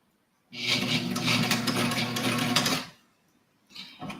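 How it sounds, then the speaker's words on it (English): A sewing machine turned by its hand crank while sewing a small corner of a fabric sling, giving a steady mechanical whirring and clatter for about two seconds, then stopping before a brief second burst. "I'm just gonna hand crank because it's like a tiny little corner here"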